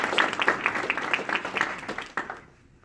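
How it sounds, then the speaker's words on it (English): Audience applause at a class graduation ceremony, a burst of many hands clapping at moderate volume, fairly close, that thins out and fades to quiet within about three seconds. "Please give our Dean Vaughn recipients a round of applause."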